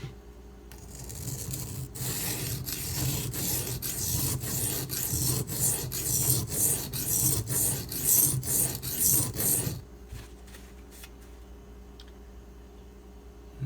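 A lockback knife's bevel is drawn across a sharpening stone in a steady, rhythmic rasp of repeated strokes for about ten seconds, then it stops and leaves only faint scattered taps and quiet.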